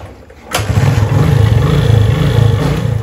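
A motorcycle engine catches after a brief quiet moment and then runs at a steady, loud, close throb while the bike is ridden.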